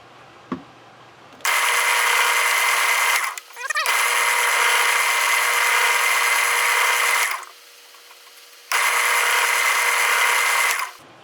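Power drill boring through a segmented pen blank of wood with aluminum layers, loud steady whine in three long bursts separated by short pauses, close and alone without talk.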